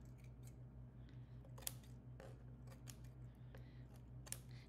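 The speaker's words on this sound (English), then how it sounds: "So now we're gonna go trim it." Scissors snip repeatedly while trimming a craft frame for a moss and bloom shelf-sitter decoration, a series of sharp, close cuts in an uneven rhythm over a low steady background hum.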